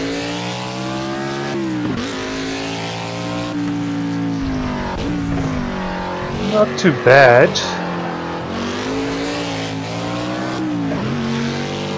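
A car engine in the racing video game Project Cars, heard from outside the car, drones and revs continuously, shifting pitch through gear changes, with a brief squeal midway and a voice speaking briefly over it.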